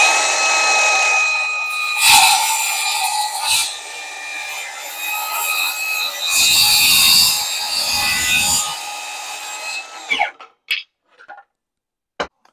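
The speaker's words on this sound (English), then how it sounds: "One thing about this saw, it is a really smooth cutting saw" Hercules 20V brushless cordless 7-1/4 in. circular saw cutting through wood, a steady loud whine with a brief surge near the start and another in the middle, cutting off abruptly before a few short clatters.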